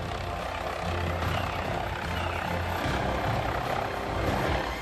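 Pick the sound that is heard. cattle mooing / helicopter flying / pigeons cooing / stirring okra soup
helicopter flying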